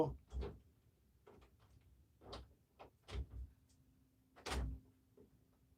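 Several dull thumps of a door opening or closing come at uneven intervals, some soft and some heavier, in a quiet indoor room.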